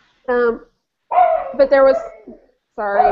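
Excited pet dogs bark in a few short, loud bursts close by, with a person talking over and between the barks.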